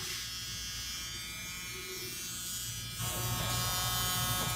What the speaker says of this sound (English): this drill is so loud